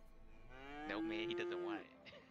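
A cow in the video game A Way Out gives a single drawn-out moo, close and clear, rising and then sliding back down over about a second with no talk over it.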